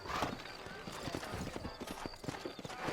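Horse hooves clip-clop in a steady walking rhythm in Red Dead Redemption, set in New Ulster, with several hoofbeats close by over a continuous background bed of game sound.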